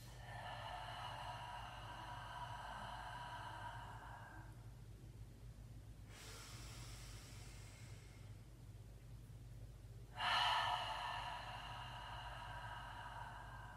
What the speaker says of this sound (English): Inhale through the nose. Exhale out the mouth.